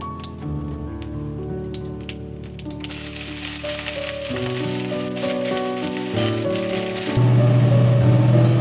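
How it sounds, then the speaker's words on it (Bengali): Chopped onions frying in oil with whole garam masala, bay leaf, cumin and dried chilli for mutton keema, a steady close sizzle under tonal background music. "পেঁয়াজ কুচি দিয়ে একটু লালচে করে ভেজে নিতে হবে"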